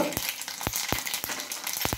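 Mustard seeds crackle and pop in hot oil in a pan while tempering for millet dadpe pohe, a steady frying hiss broken by several sharp, close spluttering snaps.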